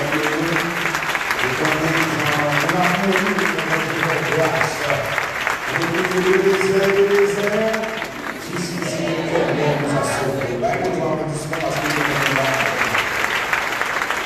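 Applause from a church congregation, a steady dense roar of clapping lasting throughout, with singing or voices layered on top and a brief dip midway before the clapping swells again.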